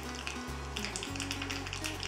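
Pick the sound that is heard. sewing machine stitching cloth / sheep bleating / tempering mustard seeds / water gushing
tempering mustard seeds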